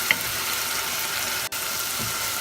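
Ginger garlic paste fries for chicken korma in a pan, a steady bright sizzling hiss that is briefly interrupted for a moment partway through.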